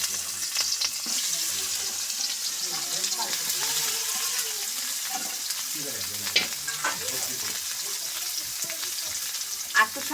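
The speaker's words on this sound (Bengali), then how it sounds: "এখন ওই তেলের মধ্যে পেঁয়াজগুলো দিয়ে দিব।" Onions fry in the hot oil left from frying potatoes, a steady sizzle with repeated spatula scrapes and stirring clatter close by, while a voice talks faintly over part of it.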